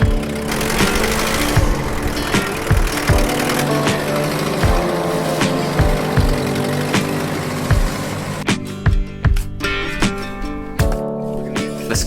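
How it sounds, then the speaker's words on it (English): A skid steer engine runs while moving dirt to level ground for a workshop, a loud, close mechanical drone with rhythmic clanking and pulsing, changing character near the end as the load shifts. "The skid steer is a lifesaver for moving dirt, especially for this job."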